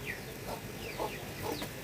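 Aggressive chickens cluck in a few short, scattered calls over a noisy farmyard background, with no talking.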